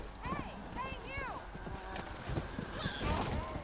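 A horse clip-clops along in the Red Dead Redemption: Undead Nightmare video game, steady hoofbeats under a voice talking in German, with faint whinny-like tonal sounds layered in the game mix.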